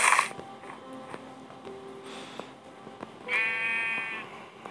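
A sheep in Minecraft PE bleats in a clear, wavering game sound effect near the end, after scattered quiet clicks and a short burst of noise at the start.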